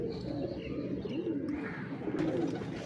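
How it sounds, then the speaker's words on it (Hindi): Cooing of a female breeder pigeon at a pigeon fancier's loft, a steady soft rolling coo repeated several times, close and clear over a low background hum with no talking. "नदीम भाई ये कबूतर जोन सा है, ये कितनी देर से है आपके पास?"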